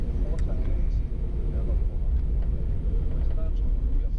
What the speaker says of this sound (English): I will let you enjoy the takeoff and the engine sound without any of my comments.